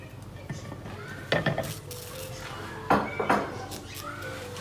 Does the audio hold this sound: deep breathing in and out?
no